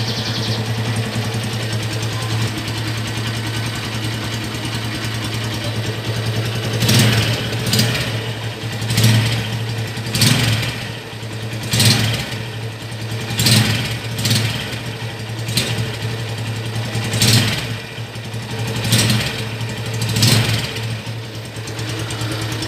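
A 2013 Yamaha Tiger Revo motorcycle engine idles steadily up close, a low constant putter with a series of regular louder revs or ticks recurring in the second half.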